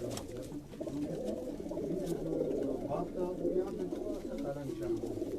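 Pigeons on a rooftop loft in Quetta give soft, continuous low cooing that overlaps into a steady murmur, close by and moderately quiet.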